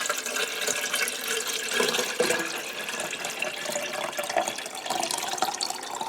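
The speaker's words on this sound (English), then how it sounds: "we're going to just pour in the orange water" Continuous stream of orange-coloured water pouring and splashing into a container, close and steady for several seconds.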